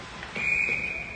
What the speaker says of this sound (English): Ref didn't like what he saw, so the whistle went.